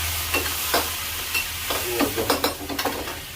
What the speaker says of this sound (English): Fry a little.